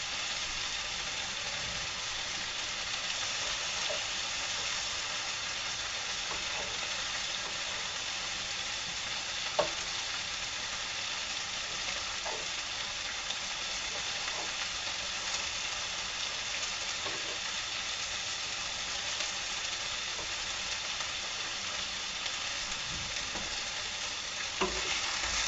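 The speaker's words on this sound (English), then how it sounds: "Turning this pork chop over to the other side because the one side has browned really nicely." A pork chop with fennel and garden vegetables frying in a pan, a steady, even sizzle held for a long stretch with occasional faint ticks and pops.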